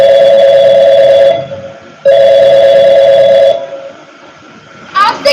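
A telephone rings in two long electronic bursts separated by a short gap, loud and close, with a brief voice at the very end.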